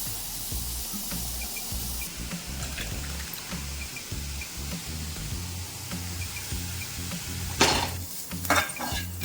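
Grated carrot sautés in a pan with a soft, continuous sizzle under rhythmic stirring scrapes. A few louder metallic clinks of utensil on pan come near the end.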